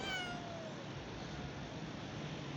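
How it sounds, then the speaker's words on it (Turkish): Kittens mewing in a steady background of soft, continuous noise, with one short high call near the start and faint cries throughout; no voices. "Şöyle yavru kedilere son kez bakın"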